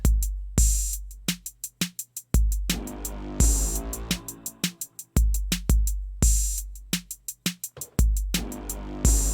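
Punchy synth stabs made from a cough sample hit in a repeating rhythmic pattern, short bright chords with a sharp attack and quick decay, loud and up front.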